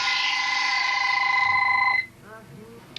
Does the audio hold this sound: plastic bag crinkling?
no